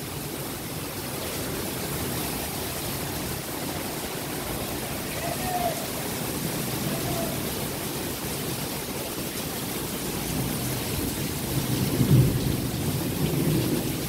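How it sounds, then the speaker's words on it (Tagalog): Heavy tropical downpour hissing loudly and steadily on surfaces, with thunder rumbling through it and a stronger crack of thunder near the end. "Sobrang ang lakas ng ulan."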